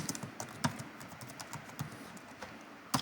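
Keys clatter softly on a computer keyboard in a steady, irregular patter of close clicks, with a few sharper strikes standing out against quiet room tone.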